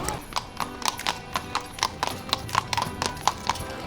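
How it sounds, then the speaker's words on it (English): Horse hooves clip-clop steadily on cobblestone streets in Prague as carriage horses pass, a brisk rhythmic series of sharp knocks over a busy outdoor murmur. "those horses that come on the carriages and you can hear the..."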